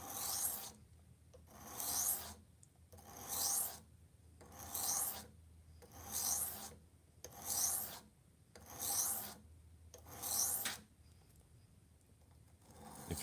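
A Wusthof, Hampton or Farberware paring knife is drawn across a sharpening stone in eight steady, evenly spaced rasping strokes, close and fairly quiet, with no talk.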